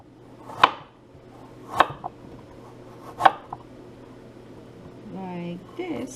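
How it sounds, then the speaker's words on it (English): A kitchen knife chops a vegetable into julienne strips for a steamed pompano dish with lemongrass and ginger: three sharp, separate chops land about a second apart on a cutting board over a low hum, then a voice speaks briefly. "So basically right now I'm gonna do is chop this"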